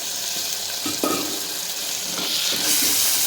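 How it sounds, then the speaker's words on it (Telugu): Split green gram sizzles as it fries in a pan, a steady close hiss with a few brief stirring scrapes and clinks, slightly louder toward the end. "కొంచెం ఫ్రై చేద్దాం"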